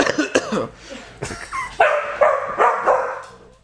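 A dog barks several times in quick succession, loud and close, with short yips and whimpering tones between the barks.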